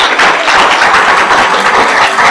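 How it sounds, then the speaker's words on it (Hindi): Studio audience applauding on a Hindi television quiz show, a dense, steady wash of many hands clapping close and loud for a couple of seconds with no talking over it. "तालियां बजाकर आप लोगों का स्वागत कीजिए।"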